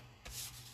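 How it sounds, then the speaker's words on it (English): A folded paper flap on a 12x12 scrapbook folio is burnished with a quick, soft rubbing stroke. The scrape is brief and quiet, heard up close with no talking. "Burnish it well."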